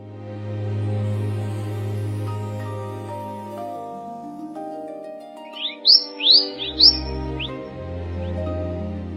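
Wild birds call in a tight cluster of bright, rising chirps midway through, set against a low droning night ambience of the plains with insect buzz.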